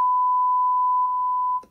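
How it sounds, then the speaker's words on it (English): A single long censor beep holds one steady pure electronic tone for about one and a half seconds before cutting off abruptly. "There was a long beep at the end of your sentence."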